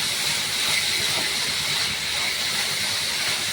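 Greens stems hiss and steam steadily in a hot pan while being sautéed for chutney, a loud, continuous broadband sizzle with no break and no voices.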